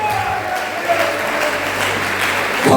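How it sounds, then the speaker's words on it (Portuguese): Church congregation applauding during a Thursday worship service, steady dense clapping throughout at moderate level, with a hint of voices. "Aplaude a presença de Jesus que está nesse lugar."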